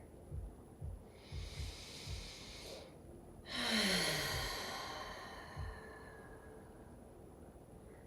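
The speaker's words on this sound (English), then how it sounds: "Begin to deepen the breath here." Slow, deep breathing during a gentle yoga relaxation for back pain, with soft rhythmic snorting inhales, a long drawn exhale, and faint low thumps in a quiet room, close and unhurried.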